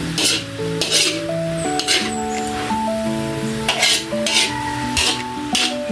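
Shredded vegetables for spring roll filling are stir-fried in a pan, with spatula clatter and a light sizzle heard in bursts over steady background music.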